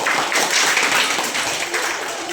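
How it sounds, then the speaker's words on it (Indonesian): Students in a church-themed classroom lesson clap together in a dense, steady round of applause that fills the short moment, close and fairly loud. "Terima kasih. Tepuk tangan dulu."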